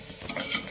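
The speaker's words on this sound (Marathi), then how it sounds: "फोडणीतच कढीपत्ता आणि कोथिंबीर थोडं टाकले" A brief, close sizzle and stir of a hot tempering as curry leaves and coriander hit the oil, a soft crackle that swells slightly over a short moment.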